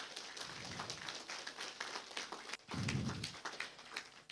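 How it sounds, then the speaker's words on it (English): An audience claps in a steady round of applause at a conference on a connected Pacific and unified digital voice, with the clapping swelling fuller and louder partway through. "I want a huge round of applause"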